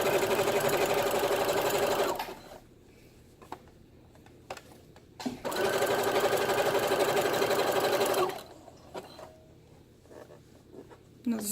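A sewing machine zigzag-stitches a one-piece halter swimsuit in two steady, whirring runs of a couple of seconds each, separated by quiet pauses with light handling clicks and soft speech.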